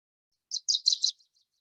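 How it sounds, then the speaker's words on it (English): A small warbler's song is played back from a recording: a brief, high, bright phrase of several quick chirped notes, faint and alone. "Very strong, very, very powerful song for what is actually a diminutive warbler among warblers"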